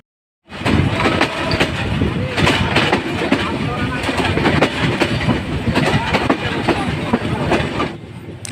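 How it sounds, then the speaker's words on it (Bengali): A moving passenger train on the Joypurhat to Dhaka route, heard from inside, gives a loud, continuous rumble with rhythmic clickety-clack rail clatter that rises abruptly and holds steady throughout. "আমাদের ট্রেন ছেড়ে দিয়েছে ধীরে ধীরে এগিয়ে যাচ্ছে ঢাকার উদ্দেশ্যে"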